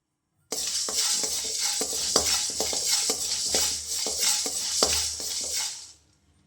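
Pepper being stir-roasted on a low flame in a pan for a weight-loss health powder: a close, busy scraping and clinking of a spoon against the pan with a light sizzle, steady for several seconds before stopping.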